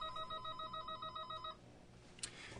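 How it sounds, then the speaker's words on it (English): A telephone rings with an incoming call, a bright electronic trill repeating rapidly for about a second and a half before cutting off, leaving quiet room tone. "I'm not going to answer that phone call."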